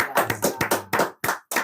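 A few people clapping their hands indoors in short irregular bursts of sharp, close claps, with brief gaps between them and a low hum underneath.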